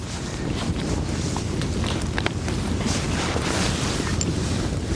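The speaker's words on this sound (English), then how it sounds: "This wind is just whichever way in direction, man. It's crazy." Strong wind blows steadily across an outdoor tent camp with a hot tent, a loud continuous rush buffeting the microphone, with a few faint knocks and rustles but no talk.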